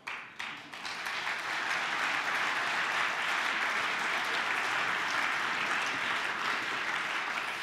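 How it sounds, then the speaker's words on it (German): Steady applause from a party convention audience at a Greens state list nomination, starting with a few scattered claps and quickly building into a dense, even roar that holds for several seconds with no speech. "Applaus"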